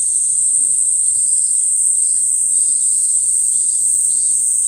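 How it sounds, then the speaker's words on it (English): Loud cicadas in a Tokyo park fill the air with a steady, high-pitched buzzing drone that never lets up, with faint low rustling beneath it and no talking. "cicadas kind of sound like weed whackers, like tiny little weed whackers"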